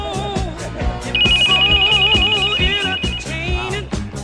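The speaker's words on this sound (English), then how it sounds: "Sorry, it's the flip phone 5 going off." A flip phone rings with a steady electronic ringtone melody, loud and close, its repeating tones sounding over a rhythmic musical background, with no voices.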